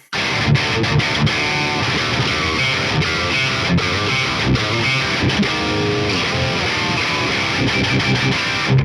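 A high-gain overdrive plugin pushes an electric guitar into dense, tight distortion with a metallic clank, played continuously and loud with rhythmic palm-muted chugs and brief gaps.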